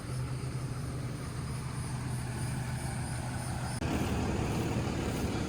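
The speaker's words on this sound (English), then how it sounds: "the train is over here. They hear that come by all the time" A train rolls past near a rural ranch in Florida, a steady, continuous low rumble close by with no voices, growing slightly louder toward the end.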